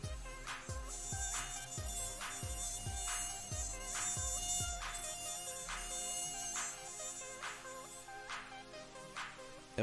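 A high, thin mosquito buzz drones continuously in the foreground alongside a repeating plucked, chiming musical pattern, with no voices.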